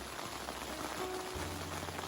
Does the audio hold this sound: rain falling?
yes